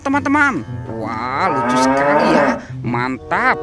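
A cow moos loudly and close by in a long, wavering call that takes up most of the clip. A voice speaks briefly before and after it.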